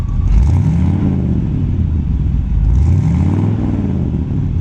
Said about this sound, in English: rev it up a little bit so you can hear the Smitties and the dual exhaust